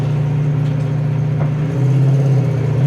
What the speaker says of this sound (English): Kick down works good on that transmission. 4-barrel kicks in nice.